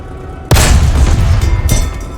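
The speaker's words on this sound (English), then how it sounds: "Now, fire at the fighting compartment on the tank." A tank cannon in the War Thunder video game fires with a sudden loud boom that rolls on, then a second sharp blast follows about a second later as the shell strikes the tank's fighting compartment, with no talk.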